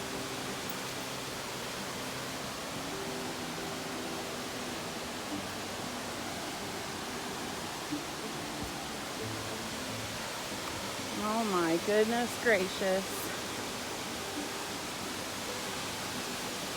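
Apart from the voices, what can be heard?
Laurel Falls waterfall heard from the trail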